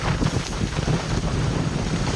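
Strong gusts roar and buffet around a sailboat crossing choppy water in the San Francisco Bay slot. The wind rumbles loud and continuous, with rushing spray and wave noise.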